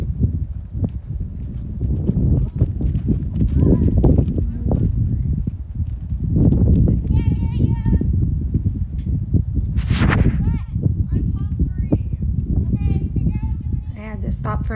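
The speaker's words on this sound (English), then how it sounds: "Now I'm gonna see how she does at the lope." Horse hooves beating steadily at a lope, a three-beat clip-clop running throughout, mixed with wind noise and occasional voices talking over it.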